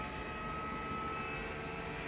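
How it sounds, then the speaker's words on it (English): A low-flying airplane in the racing game Le Mans Ultimate drones past as a faint, steady hum over the constant race background, no talk over it. "Plane! What?"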